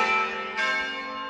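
Church bells ringing in a small Italian town, a sustained resonant toll with a second strike partway through, close and full with lingering overtones, no voices.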